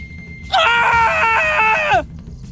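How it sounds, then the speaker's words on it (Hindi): A single loud, piercing scream held for about a second and a half, rising and wavering before breaking off abruptly. "पर तभी एक तेज चीख सुनाई देती है।"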